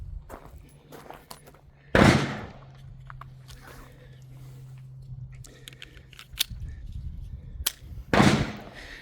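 Two sharp, loud shots from a Smith & Wesson Bodyguard 2.0 pistol ring out several seconds apart, each followed by a short decay over a faint background hum.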